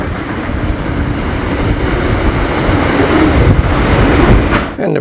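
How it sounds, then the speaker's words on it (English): A freight train rumbles past close by, a steady loud roar of wheels on rails with faint clattering, easing off abruptly at the very end. "the freight train on the left goes straight through"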